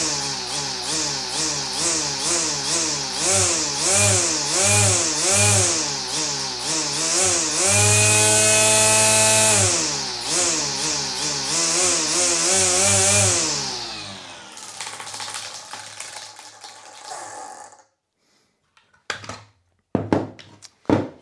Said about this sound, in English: This is pretty much my go-to string trimmer, and I use this one all the time.